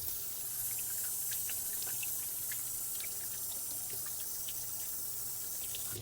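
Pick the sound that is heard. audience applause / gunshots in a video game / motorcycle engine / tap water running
tap water running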